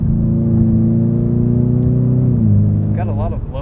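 A 2020 Ford Mustang EcoBoost High Performance Package engine pulling in sport mode, a steady loud droning hum that shifts pitch partway through, heard from inside the cabin, with a brief rising rev near the end.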